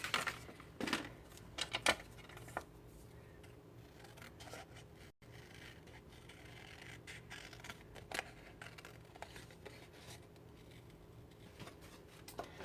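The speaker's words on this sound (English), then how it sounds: "I just cut a couple of strips of paper." Scissors snip through strips of red or green cardstock paper at a tabletop craft session, with a few sharp cuts near the start and sparse fainter snips and rustling afterward, fairly quiet with no talking.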